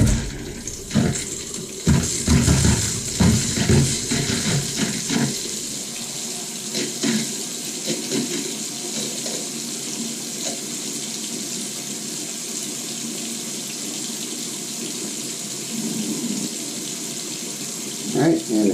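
Water runs steadily from a sink tap as a water heater is purged of brown sediment, a continuous close splashing stream with a few louder bursts and spits early on.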